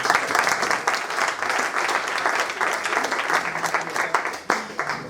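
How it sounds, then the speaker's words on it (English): Audience applause at a music production session during a Berklee festival in Israel, dense steady clapping from a crowd lasting throughout, loud and close, with a few sharper claps near the end. "we should applaud for that."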